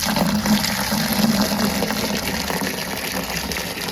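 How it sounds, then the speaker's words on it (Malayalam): Continuous gushing of water pouring into a bucket, steady and close, running for the whole stretch without talk. "ഒരു മുക്കാൽ ബക്കറ്റോളം നമ്മൾ വെള്ളം അതിനകത്ത് ഒഴിച്ചിട്ടുണ്ട്"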